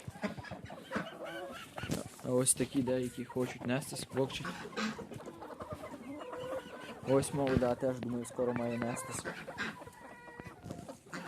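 Hens cluck and murmur nearby in a steady, busy chorus while a person talks over them.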